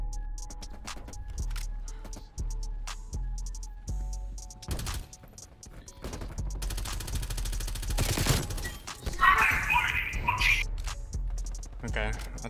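Bursts of gunfire from an LC10 submachine gun class in the shooter game Call of Duty: Black Ops Cold War, with rapid repeated shots and explosions stacked over a steady game soundscape, under occasional talk.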